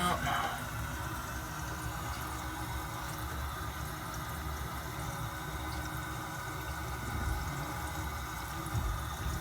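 Water runs steadily from a sink faucet into a freshly cleared drain, a continuous close rushing hiss with a brief splashy onset and no talk over it.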